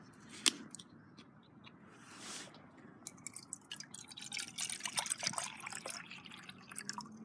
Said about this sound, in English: So let's get my water in my cup.